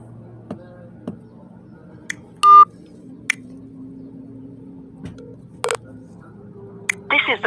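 Phone keypad tones from a telephone call, heard as short, separate beeps scattered over a quiet line with a faint hum underneath, plus one louder burst and a closing cluster of tones.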